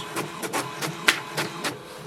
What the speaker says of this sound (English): press the information button again just once and it will print a page